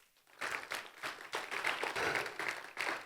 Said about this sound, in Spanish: Dar un aplauso a Jesús.